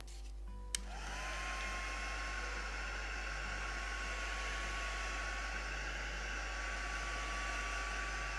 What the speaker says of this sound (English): We'll give it a little encourage with the heat gun.